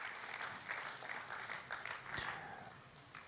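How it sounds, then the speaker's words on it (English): Audience applause at a South-East stakeholders forum, steady clapping from a crowd heard at a moderate distance and fairly faint, continuing without pause. "Please put your hands together for him as he comes up."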